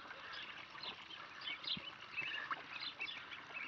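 Young ducklings splash and peep around a small backyard pool, with soft high chirps and light water trickling throughout at a moderate, close distance.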